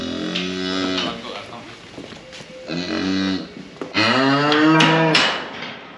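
Cows low repeatedly on a farm, several long, loud moos close by with short pauses between them, and a faint clunk in the background.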